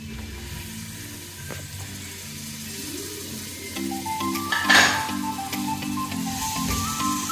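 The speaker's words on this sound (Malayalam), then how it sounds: "നമ്മുടെ സവാളയും തക്കാളിയും ഒരുമിച്ച് ഇട്ട് കൊടുക്കാം" Onions and tomatoes sizzle together in a pan for mutton kurma, a steady close hiss that swells louder midway, with background music playing underneath.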